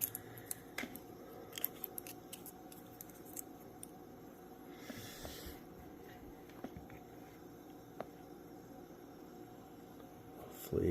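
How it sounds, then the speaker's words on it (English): Aluminum foil crinkles and crackles softly at close range as it is put on over sealant, a quiet run of brief scattered rustles against a steady background hiss. "And I'm going to throw foil on."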